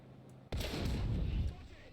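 A tank cannon in War Thunder fires a single loud, booming shot at close range, followed by a rumbling tail that lingers for about a second before easing off.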